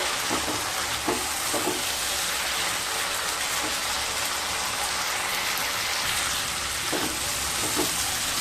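Raw papaya curry sautéing in a pan over low to medium heat, a steady rain-like sizzle with occasional stirring knocks, close and continuous throughout.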